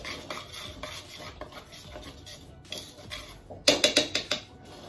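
Low carb bagel ingredients being stirred in a bowl with a utensil, a run of soft scraping and clinking strokes, ending in several louder sharp knocks near the end.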